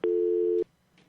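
A steady telephone line tone sounds clearly for about half a second, then cuts off abruptly, leaving near silence with a faint rustle afterward.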